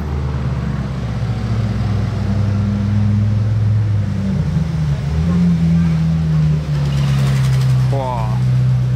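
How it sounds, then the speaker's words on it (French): An Audi RS3 2022 drives up a hill and arrives nearby, its steady engine drone rising and shifting as it approaches, close and loud throughout. "je suis en train d'attendre une voiture qui monte là-bas, je l'entends arriver"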